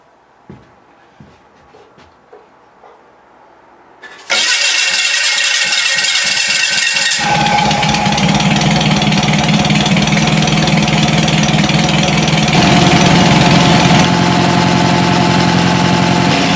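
A Volkswagen engine on a mobile dimension sawmill starts and settles into a loud, steady idle, with a few faint knocks and handling sounds before it catches; the running engine holds strong and continuous to the end.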